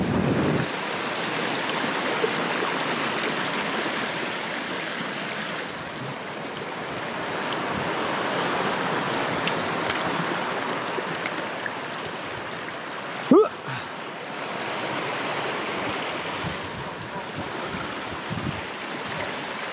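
Deep, fast-flowing mountain stream in Snowdonia rushing steadily with a broad, constant roar close by, holding an even level throughout with a brief bump partway.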